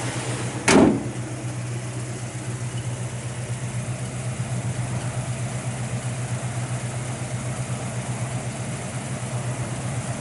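A 1972 Chevrolet Cheyenne short box pickup truck engine idling steadily and smoothly after a brief sharp start, a low even rumble continuing alone throughout.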